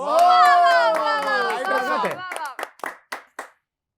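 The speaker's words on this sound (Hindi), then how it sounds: "जोरदार तालियां हो जाए फॉर वेरी टैलेंटेड देवेश" A voice speaks loudly at first at a comedy roast show, then a handful of separate claps ring out, sharp and spaced, fading after a few beats.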